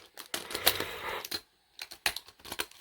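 A knife cuts and scrapes through material for custom-made test lights in short, close, rough bursts with brief pauses between strokes.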